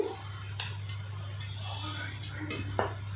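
A knife trims the edges of a chapati on a kitchen surface in a few sharp, scattered clicks and scrapes over a steady low hum, with a faint voice nearby.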